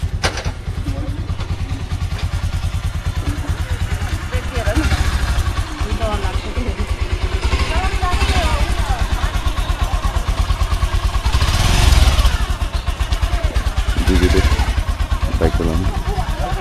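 A motorcycle engine runs steadily close by and stays loud the whole time, with a throbbing idle and small rises in revs, while people talk over it.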